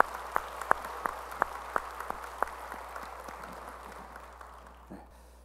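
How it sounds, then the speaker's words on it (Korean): A church congregation applauding during a Sunday service, a handful of sharp, distinct claps over a low, muffled room murmur that gradually fades. "박수 올리겠습니다"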